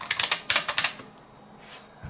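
Quick bursts of sharp clacking keystrokes ring out from a loud clicky mechanical keyboard, a rapid run of close presses followed by a pause and one last tap.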